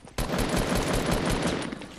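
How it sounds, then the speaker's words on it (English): Rapid automatic hand cannon fire in Fortnite, a dense continuous burst of loud shots starting abruptly and rattling on for about two seconds, with no talk over it. "he's using a hand cannon."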